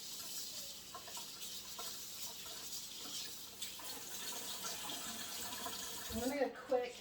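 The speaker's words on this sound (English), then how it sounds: "so now I'm gonna rinse these out" Tap water runs steadily while dishes are rinsed at a kitchen sink, a faint continuous hiss with light clinks and clatter near the end.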